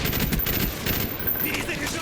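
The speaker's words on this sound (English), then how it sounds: "there's nothing like the sound. Just the chunkiness, the deep sound whenever you are unloading your clip" An M16 assault rifle fires in rapid bursts in Call of Duty: Black Ops 1, a dense, chunky stream of gunshots that fills the short moment.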